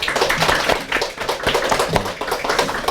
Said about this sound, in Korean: 너무 감사하고 반가워서 박수를 한번.